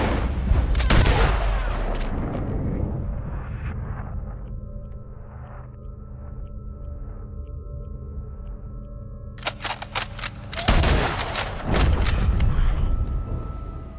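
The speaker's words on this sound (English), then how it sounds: "Take the shot, Arthur." Gunfire in Red Dead Redemption 2 during a prison rescue: a sharp loud shot opens, a quieter stretch of echoing tones follows, then a cluster of close, loud shots erupts near the end.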